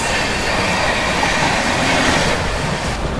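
The CR Rajdhani Express from Hazrat Nizamuddin to Mumbai runs at speed past other express trains, heard from inside a First AC coach as a loud, continuous rumble of wheels and rails with no talk.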